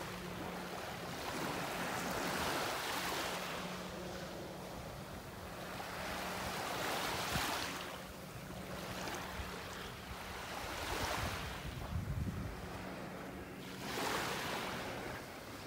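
Beach surf rolls in steady cycles, each wave swelling into a broad wash and fading, with light wind noise underneath and no voices.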